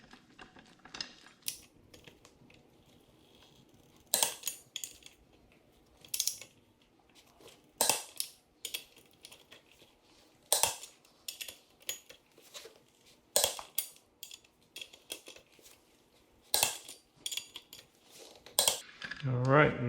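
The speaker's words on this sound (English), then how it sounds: "with the torque wrench" Torque wrench tightening sprocket bolts on a 2009 Kawasaki ZX6R in a star pattern: sharp metallic clicks and ratcheting taps arrive in irregular bursts, close and crisp over a quiet garage background.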